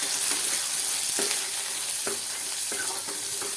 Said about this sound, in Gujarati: હવે તેમાં આપણે તુવેરના દાણાને નાખી દઈશું અને તેની સાથે આપણે અડધી ચમચી ભરીને હળદર નાખી દઈશું